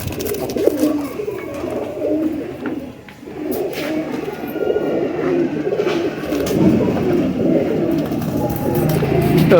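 Faqeer Gull pigeons coo in overlapping low, throaty phrases close by, continuous through the stretch with some rustling and faint background noise.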